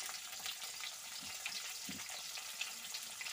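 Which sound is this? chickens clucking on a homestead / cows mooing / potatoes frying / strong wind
potatoes frying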